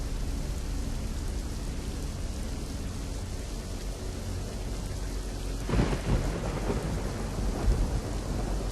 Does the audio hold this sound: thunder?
yes